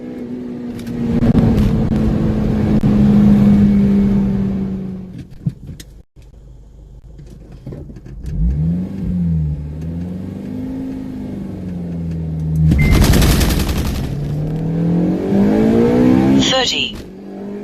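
A stock 8th-generation Honda Civic Si pulls hard down a quarter-mile run from inside the cabin, its engine winding up through the gears in rising sweeps, broken by quick shifts, while someone talks over it.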